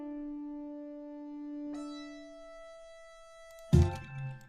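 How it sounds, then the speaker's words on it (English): Low, dark synth drone with its filter cutoff all the way down, holding a steady tone before brighter sustained notes join, ending in a sudden loud noisy hit. "Underneath this I have a drone, in which I took the cutoff all the way down"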